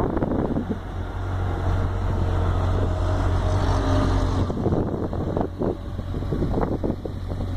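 A Honda Hornet motorcycle accelerates on a road near a ring highway, a loud roaring engine buffeted by heavy wind noise, rising and holding with rough bursts.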